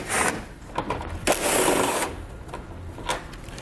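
Power driver with a T30 Torx bit backing out bumper fasteners on a 2019 Ram ProMaster van, a close whirring buzz in a few short bursts with brief pauses between.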